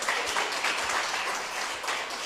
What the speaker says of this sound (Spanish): Un aplauso, que viene el Sagrado Corazón.